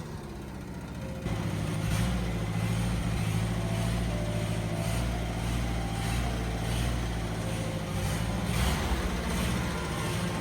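An old ZAZ Zaporozhets small car's engine starts up loudly after a quiet moment and keeps running with a rough, throbbing rumble as it pulls away.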